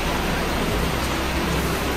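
Steady rain falls during a motorcycle ride on a slippery road, a dense even hiss that fills the whole stretch with no voices.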